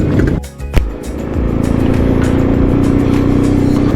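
Motorbikes in an XP 100 bike rally on a Sunday morning ride roar steadily and close by, with a brief dip and a sharp thump early on before the engine drone settles into a loud continuous hum with no talking.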